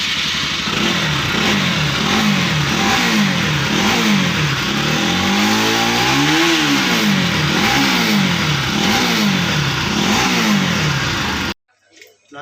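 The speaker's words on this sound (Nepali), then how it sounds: "बाइकको चाहिँ मोडिफाई गर्नु अघि चाहिँ म चाहिँ साउन्ड सुनाउँछु" Stock Bajaj Pulsar NS 200 motorcycle exhaust revved repeatedly before any modification, loud and close, rising and falling in steady throttle blips for about eleven seconds, then cutting off abruptly.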